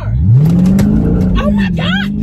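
A car engine is revved hard with the gas pedal mashed while the car fails to pull away. The pitch climbs and then holds in a loud, close whine, and a voice talks over it.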